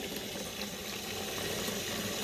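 Tap water pours steadily into a container filling up to soak raw Shetland wool, a close, constant splashing rush with no talk over it.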